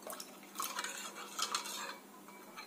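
Fish pieces are mixed by hand or spoon with turmeric, salt and Kashmiri chili powder in a bowl, giving faint, close, wet squelching and light clinks with no speech.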